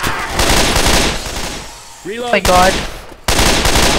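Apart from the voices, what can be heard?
gunfire in the Left 4 Dead 2 video game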